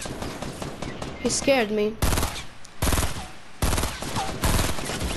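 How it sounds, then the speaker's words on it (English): Enemy gunfire in a Fortnite squad match, loud repeated bursts of rapid automatic shots separated by brief gaps, with players talking and exclaiming between the volleys. "He's shooting."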